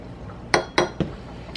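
Three quick metallic clinks of a teaspoon tapping against a container while measuring onion powder, close and bright, evenly spaced within about half a second.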